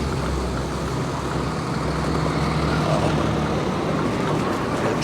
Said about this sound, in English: Trucks all over.